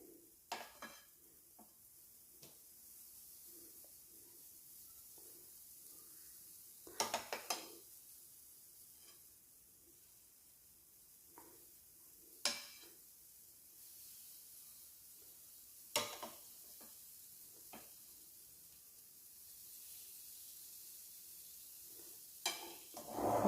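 Pancake batter sizzles quietly in a non-stick frying pan, a faint steady hiss broken by several sharp clinks and scrapes of a utensil against the pan.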